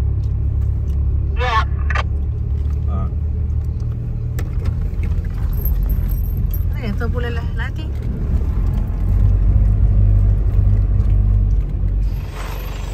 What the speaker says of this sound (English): the car is still making more noises.